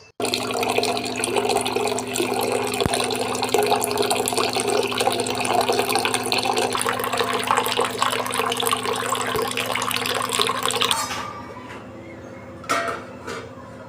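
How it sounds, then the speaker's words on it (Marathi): Steady rushing water from a tap pours into a drinking-water pot for about eleven seconds, then cuts off, leaving faint clinks. "इथे पिण्याच्या पाण्याचा हंडा खाली झाला होता म्हणजे रिकामी झाला होता तर हंडा भरून ठेवला मी"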